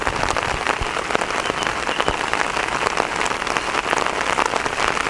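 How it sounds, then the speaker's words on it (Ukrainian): Steady, loud rain falls on a lake during a fishing trip in a thunderstorm, a dense even hiss of drops spattering the water without break. "Дощ дощом."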